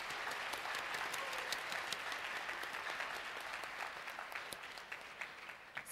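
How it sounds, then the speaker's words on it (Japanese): Steady applause from a high school audience at a presentation contest and award ceremony, even and sustained with sharper individual claps standing out, moderately distant. "発表者の皆さんに盛大な拍手をお願いします。"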